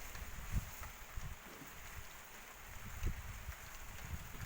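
Rain with strong wind, a faint steady hiss of rainfall under gusty wind noise buffeting the microphone, with occasional low thumps and no voices.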